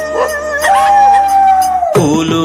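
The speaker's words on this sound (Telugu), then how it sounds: "కుక్కలు నక్కలు వచ్చాయి" Dogs howling as a sound effect within a Telugu children's rhyme, a long wavering howl over music that gives way to busier sound near the end, loud and close.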